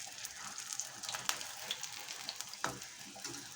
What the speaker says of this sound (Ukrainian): На розігріту сковорідку кладемо наші чебуреки і обсмажуємо з двох сторін